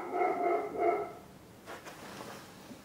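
A dog indoors barks twice in quick succession at moderate distance, followed by a quieter short yip or huff and low room noise.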